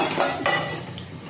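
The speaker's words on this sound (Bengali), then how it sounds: "এবার ঢাকা দিয়ে দিলাম।" A lid is set down on a cooking pan on the stove, a recipe with fresh coriander on top, giving a couple of close metallic clinks and rattles in quick succession.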